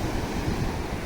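Ocean waves breaking along the coast near Udupi, a brief, steady wash of surf mixed with low wind buffeting on the microphone.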